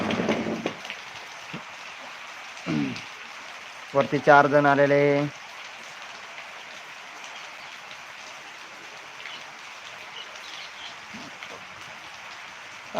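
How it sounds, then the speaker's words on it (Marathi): Steady rain hisses throughout. A few brief voices speak over it, and a short tonal horn-like sound passes in the middle. "आमच्याकडे पाऊस चालू आहे"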